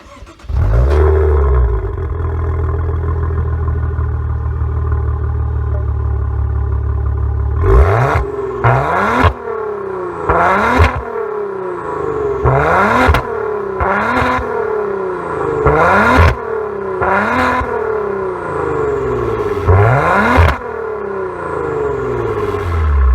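A Maserati Ghibli engine idles, then is revved repeatedly in sharp bursts, each rising and falling back, about eight revs in a row, close and loud.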